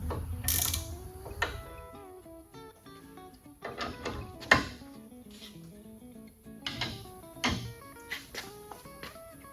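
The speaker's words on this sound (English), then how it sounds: "Go ahead and get these things bolted in place." A hand ratchet tightens mounting bolts on an Eastwood shrinker and stretcher combo, giving bursts of quick clicking with clanks of metal parts. The sounds come close and fairly loud, with no talking.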